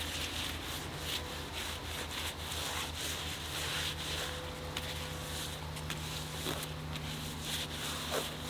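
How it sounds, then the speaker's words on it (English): Cloth rubbing steadily over a silicone mermaid monofin, a continuous soft scrubbing texture with a low steady hum underneath, close and moderately quiet. "Alright, just gonna wipe this down real quick."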